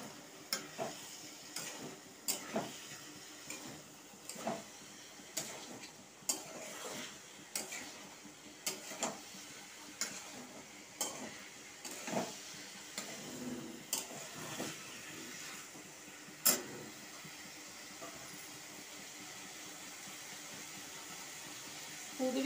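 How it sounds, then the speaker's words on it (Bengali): Ivy gourd (kundri) tipped into a pan of spiced masala with ground coriander and cumin, sizzling steadily while a spatula scrapes and stirs in repeated sharp strokes, close and moderately loud with no talking. "এই যে কুদরিটা ঢেলে দিচ্ছি।"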